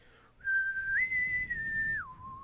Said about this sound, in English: I think that's the whistle.